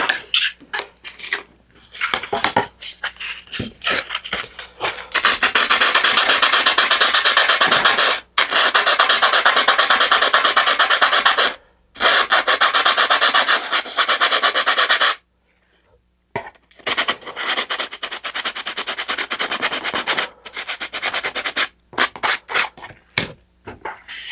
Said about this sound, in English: So I'm going to sand that down there.